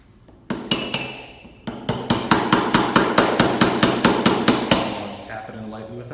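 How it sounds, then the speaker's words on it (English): A hammer taps a part into the housing of a double-ball divert valve actuator during assembly: a single strike, then a pause, then a fast, even series of sharp metallic knocks that slows and stops, close and loud. "Tap it in lightly with a hammer."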